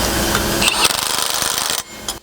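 Power tool, likely an impact driver, tightening bolts on a John Deere tractor undercarriage for a snow plow system, a loud rapid hammering burst lasting about two seconds before cutting off.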